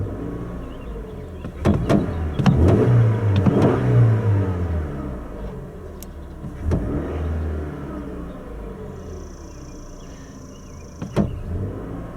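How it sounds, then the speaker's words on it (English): 2019 Toyota RAV4 LE with a 4-cylinder engine revved in quick blips, each rising and falling, close to the engine bay, with brief clicks between the revs and a quieter idle toward the end. "I'll go ahead and rev it now so you can hear it"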